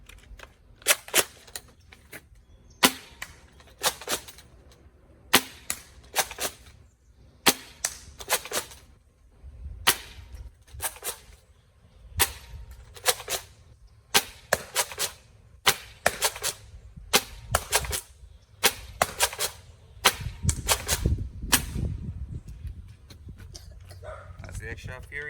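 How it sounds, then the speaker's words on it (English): An X-Shot Fury X toy foam dart blaster fires repeatedly at a target about 40 feet away, making sharp snapping shots in a steady rhythm with mechanical priming clacks between them, close up, with a voice talking at times. "The Xshot Fury X was shooting a little low there."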